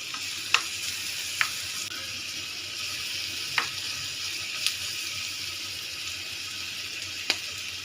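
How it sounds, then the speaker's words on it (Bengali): Chopped ginger and garlic paste fries in hot oil with a steady, even hiss, broken by a few sharp spoon clicks against the pan. "এখন আমি এই যে আদা রসুনটাকে, যেটাকে পেস্ট কুচি করেছিলাম, সেটাকে ভেজে নিচ্ছি।"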